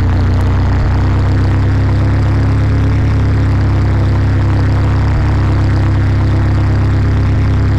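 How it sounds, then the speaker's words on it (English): Light aircraft propeller engine running just after start-up, a loud, steady low drone with regular pulsing that stays constant throughout, with no talk. "The engine is started. It's running sweetly, which is nice."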